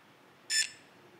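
A REVED Breve electronic speed controller in an RC drift car gives one short, high electronic beep, clear against quiet background hiss.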